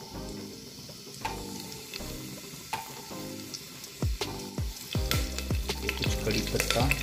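Mustard seeds, with garlic and cumin, crackle and pop in hot oil in a cooker, sparse at first and then growing into dense, loud spattering bursts over a steady sizzle, with no talking.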